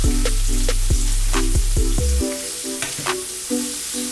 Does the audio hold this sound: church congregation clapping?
no